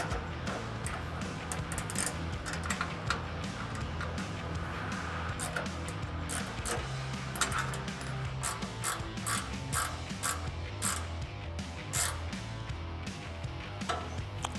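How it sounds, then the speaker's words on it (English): 10mm ratcheting wrench tightening bolts on a 2014-2021 Toyota Tundra front bumper, giving repeated quick ratchet clicks in bursts with metallic clinks, fairly faint and close, over a low background hum. "I'm going to take a 10mm ratcheting wrench."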